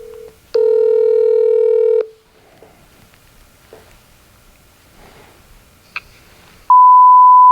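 A telephone line gives a long dial tone, then a few faint, quick keypad beeps, and ends on a steady single ringing tone as the call connects. No one speaks.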